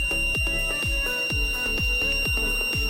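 A homemade fire alarm buzzer, set off by a heated tube light starter, sounds continuously and loudly with a rapid repeating pulse and steady high tones, alone without talk.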